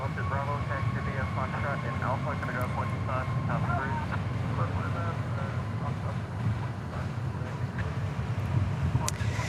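Low, steady rumble of jet aircraft at DFW Airport, continuous and fairly distant, with people talking over it throughout.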